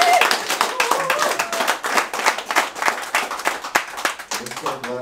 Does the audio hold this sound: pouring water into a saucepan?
no